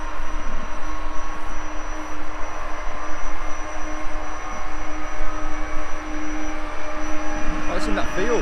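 A propeller aircraft drones steadily overhead in open countryside during metal detecting. The hum is even and continuous, with a humming whine, as people talk over it.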